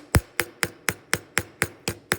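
Nine sharp metallic hammer strikes on a rivet ring out at an even, quick pace, close and fairly loud, with no talking.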